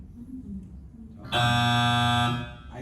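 A single loud, harsh electronic game show buzzer blares for about a second after a quiet stretch with faint murmuring.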